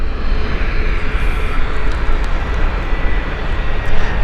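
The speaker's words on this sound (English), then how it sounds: "Iberia Express taking off right now." An Iberia Express airliner takes off at Gatwick, a steady broadband jet rumble held at a constant level over a few seconds, without voices.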